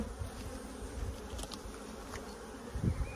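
Honey bees hum steadily from a large colony that came through winter well, opened during a spring nectar flow, with a dense, continuous close-up drone and a few louder passes near the end.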